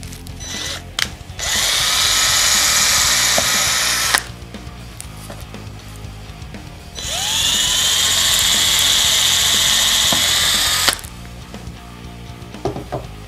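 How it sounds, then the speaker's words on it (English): Power drill boring two holes into an electric guitar body for a Frankenstrat-style build, two sustained loud whining bursts of about three and four seconds with quieter handling noise between them. "So I have my drill ready, and I'm just going to drill two holes"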